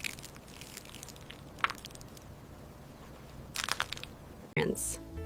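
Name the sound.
crushing Oreo biscuits into small chunks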